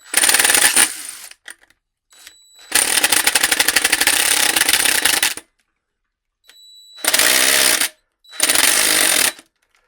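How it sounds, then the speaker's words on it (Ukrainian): A DeWalt impact driver hammers a screw in loud, rapid rattling bursts separated by silences. The clutch engages and the screw stops turning while the tool keeps clattering close by. "В нас починає працювати муфта і шуруп далі вже не закручується."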